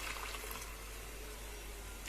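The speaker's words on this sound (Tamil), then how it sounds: "இதில் தேவையான அளவு தண்ணி ஊற்றிக்கோங்க." Water is poured into a simmering green pea and potato kulambu gravy, giving a steady, close splashing and trickling wash that runs unbroken for about two seconds, with no talking.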